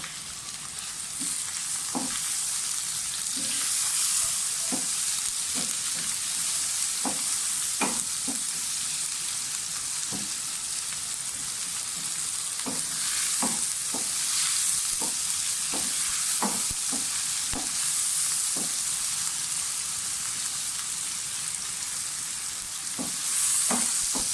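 Tomatoes sizzle in a pan for a white-bean lobia masala, a constant soft frying hiss punctuated by regular spatula taps and scrapes against the pan, with no voices.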